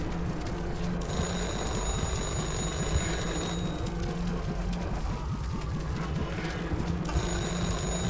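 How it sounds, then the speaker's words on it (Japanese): A telephone rings in the horror game Anthology of Fear, with bursts of bright electronic ringing that start and stop over a constant, loud, rumbling background drone. "電話が鳴ってるみたいだけど。"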